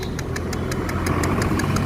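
A motorbike engine rumbles steadily as the bike rides through floodwater in Ambala, with a regular ticking knock running over the low drone, close and fairly loud.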